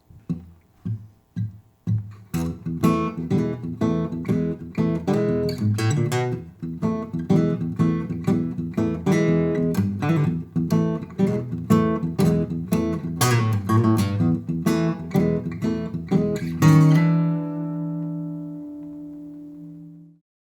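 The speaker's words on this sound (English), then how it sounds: "What you just heard was based on the double thumb bass shuffle" A bass guitar plays a steady double-thumb blues shuffle rhythm of plucked notes, with busier fills woven in, ending on a ringing sustained note that fades out.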